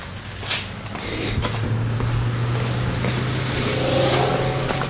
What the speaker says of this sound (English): So guess we'll do a cold start on the truck